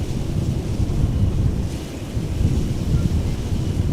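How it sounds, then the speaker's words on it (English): Wind at Amsterdam Schiphol Airport, blowing from the northeast, buffets the microphone in a loud, steady low roar that surges and eases slightly throughout, with no other clear sounds. "Wind is blowing from the northeast."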